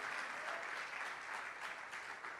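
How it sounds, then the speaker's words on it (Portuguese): A church congregation claps together in a steady, dense wash of applause that holds at an even level throughout. "Você pode aplaudir o Senhor por isso?"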